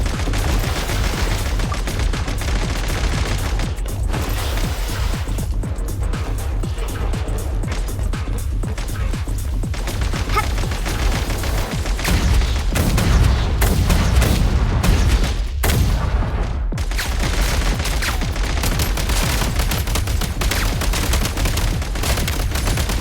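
Dense, continuous gunfire and explosions in a snowy shooter game, Everwinter Without Mercy: rapid bursts layered with booms, loud and sustained throughout with barely a break.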